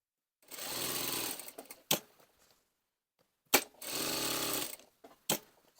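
A sewing machine stitches a waistcoat pocket bag in two short bursts, each about a second long, with sharp clunks of fabric handling and presser-foot adjustment in between and near silence around them.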